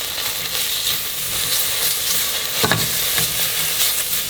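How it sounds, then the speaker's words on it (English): Spices frying in a pan hiss steadily while a spoon scrapes and stirs through them, with a few louder clatters partway through. It is close and continuous, with no talking. "we're going to stir this up for about a minute"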